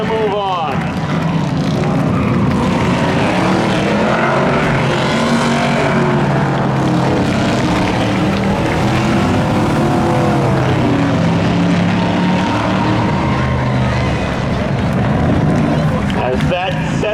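Loud engine roar from race cars at Seekonk Speedway during a spectator drag event, with a car getting loose and spinning out, the sustained revving and tire noise running throughout under an excited announcer's voice.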